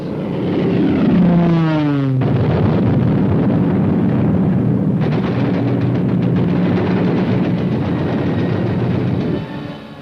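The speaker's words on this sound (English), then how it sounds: "The ship was bombed and sunk with the loss of American lives" Bombs exploding during a Japanese aircraft attack on the American gunboat USS Panay on the Yangtze River, a descending aircraft whine cut off by a loud blast, followed by sustained roaring rumble and gunfire, very loud with no talking.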